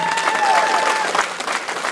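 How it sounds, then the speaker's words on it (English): Wedding guests clap together after a best man's toast, a brief loud burst of many hands with a faint tone and scattered voices mixed in. "You guys got to give him a nice round of applause for that toast."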